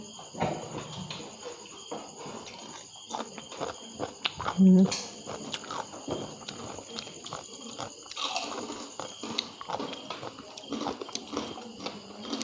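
Close, crisp chewing and crunching of som tam papaya salad eaten with soft rice noodles, repeated bites and mouth sounds over a constant high insect-like chirr, with occasional louder crunches.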